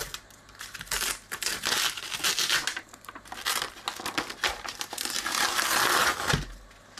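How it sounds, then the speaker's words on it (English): A label is peeled off a plastic lid with continuous close crinkling and tearing, rising and falling in bursts over several seconds without any talk. "Start by peeling this off."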